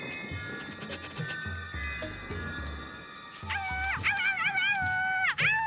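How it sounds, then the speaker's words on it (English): A dog whimpers and yips in a cartoon adventure scene, a run of thin high whines rising into sharper yelps, close and fairly loud. "What's the matter with your dog?"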